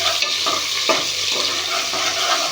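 Chicken biryani mixture with ginger is stirred in a pot, repeated scraping, wet squelching strokes over a steady sizzle, close and fairly loud with no voices.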